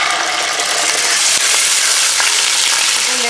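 Ginger and garlic paste hits hot oil in a karahi for dhaba-style mutton, giving a loud, steady, close sizzle with faint stirring scrapes and no talking.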